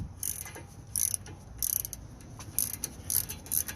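A ratchet spins an 18 mm brake caliper bolt loose during a front brake pad and rotor job on a 2015 Ford Taurus SEL, giving close, rhythmic bursts of quick clicking, about six in a row.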